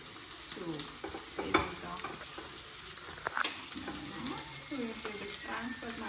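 Chicken pepper dry sizzles and fries in hot oil in a home kitchen as a utensil stirs and scrapes through it in repeated strokes, a steady moderate crackle with a voice speaking faintly at times.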